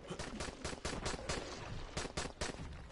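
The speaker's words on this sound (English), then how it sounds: "Stop shooting!" Rapid bursts of video game gunfire in a night hunter versus human match, a steady string of shots with a few louder cracks and no talk.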